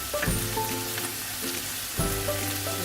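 Vegetables sizzle in a pan over medium-high heat for boneless chilli chicken, a steady close frying hiss with a few clanking stirs and scrapes.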